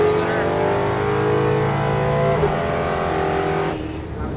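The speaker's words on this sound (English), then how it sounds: "I hit the rev limiter" A nitrous-fed muscle truck on street tires roars hard on a drag strip, its engine held loud and steady near the rev limiter for several seconds before cutting off.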